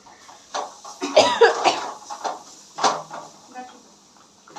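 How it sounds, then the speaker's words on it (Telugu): Several close, sharp coughs break out from a cook irritated by pungent biryani masala fumes while egg biryani simmers in oil, mixed with brief talking and kitchen clatter. "బిర్యానీ మసాలా ఘాటుగా దగ్గు వస్తుంది"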